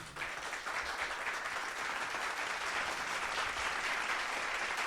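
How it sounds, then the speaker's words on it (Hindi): Audience applause at a live tribute show for Mohammed Rafi, a thick continuous roar of clapping from a large crowd, steady and even throughout. "एक मर्तबा मोहम्मद रफ़ी साहब के लिए भरपूर तालियां बजा दीजिए।"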